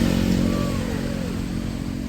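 Motorbike climbing a hill road on Koh Larn island near Pattaya, Thailand: a close, steady engine hum with a throaty low drone throughout.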